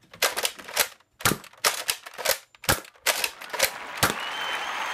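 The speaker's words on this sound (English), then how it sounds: "I just want to make sure it fires at this point." Thrift-store Nerf Rampage blaster test-firing foam darts indoors, a run of sharp, close snapping shots in quick irregular bursts, roughly a dozen pops over several seconds with brief gaps between.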